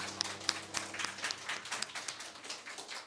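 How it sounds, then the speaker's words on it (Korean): A church congregation claps during a Sunday worship service, a fairly quiet patter of hands with a few sharper claps standing out near the start, fading slightly toward the end. "우리 자녀들 축복하면서 박수 한번 쳐주시죠"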